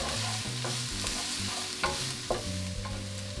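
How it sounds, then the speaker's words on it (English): Garlic and onions frying in a pan as they are stirred around, giving a continuous sizzle with soft utensil scrapes and a couple of sharper knocks, no voices. "we can just stir this around"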